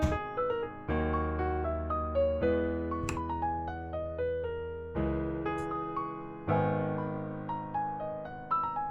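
Quiet piano chords, each rolled quickly like a strum, repeating in a steady rhythm with the harmony changing every couple of seconds.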